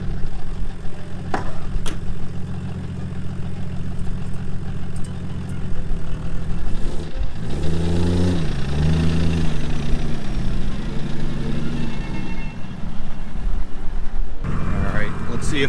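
Abandoned Volvo 740 with a D24t turbo diesel engine running steadily, a low rumbling drone with a rising and falling throttle swell partway through, close and continuous.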